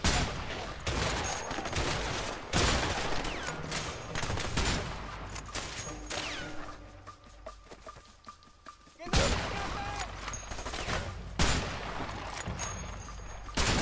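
Sniper rifle fire in the video game A Way Out: loud, cracking gunshots ring out repeatedly amid dense battle noise, with heavier blasts near the middle and toward the end.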